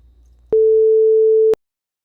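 A pure sine tone generated through the Web Audio API starts abruptly, holds steady and loud for about one second, then cuts off with a click, leaving silence; a faint low hum sits underneath before it.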